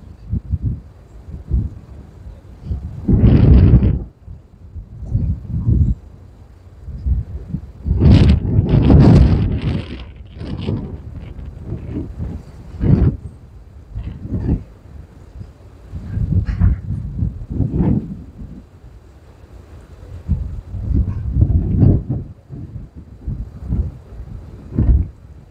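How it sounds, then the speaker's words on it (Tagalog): Strong wind buffets the microphone over Manila Bay, coming in loud, gusty rumbling bursts that rise and fall. "May kalakasan nga lamang itong hangin ngayon"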